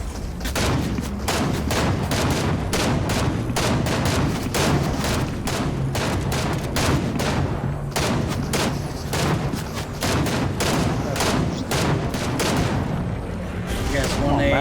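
Rapid bursts of gunfire in a Fortnite squad match, dense repeated shots and explosions in quick succession with players talking underneath.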